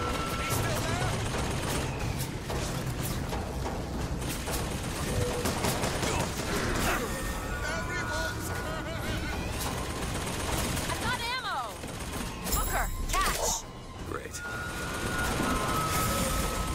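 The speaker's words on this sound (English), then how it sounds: "Where's the gunfire coming from?" Gunfire in Bioshock Infinite crackles in dense, continuous bursts amid explosions and mechanical clatter, loud and chaotic throughout, with occasional players' voices mixed in.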